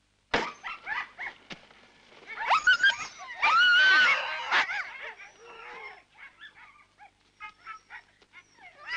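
A pack of Greenland sled dogs kept for sledging barks, yips and whimpers in a dense, overlapping chorus, with loud bursts early on easing to scattered yelps.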